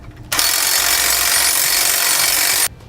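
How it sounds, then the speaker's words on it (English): A power tool with a 14mm socket tightens nuts onto carriage bolts while fitting SumoSprings helper springs, giving one loud, steady whir of about two seconds that starts and stops abruptly, close by. "Then tighten them down with a 14mm socket."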